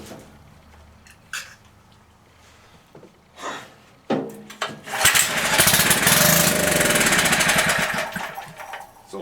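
An old Kohler engine on an antique ME tiller, given starting fluid, is quiet for a few seconds apart from a few clunks, then fires and runs loudly and roughly up close until the end.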